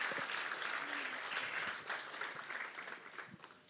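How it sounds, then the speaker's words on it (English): Sustained audience applause at the Transform Africa Summit 2023 closing ceremony, a dense steady wash of many hands clapping throughout, fading slightly toward the end. "Another round of applause for the Honorable Minister."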